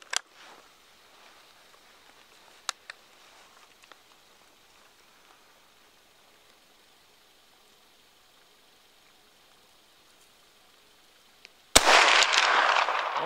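One loud rifle shot from a rifle with an iRay Geni GL 35R thermal scope, aimed at a can outdoors, bursts near the end after a long quiet stretch with a few faint clicks.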